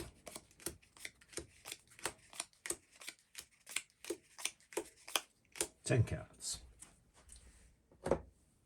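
A deck of board game cards for a horror-themed tabletop game is shuffled by hand: a steady run of crisp riffling bursts, about two per second, close and clear, ending with a couple of heavier thumps as the deck is squared.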